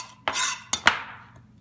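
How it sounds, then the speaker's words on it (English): Knife chopping the end off a carrot on a cutting board, three or four sharp quick clicks and taps with brief ringing, close and clear with no talk. "the carrot, gonna cut off the end"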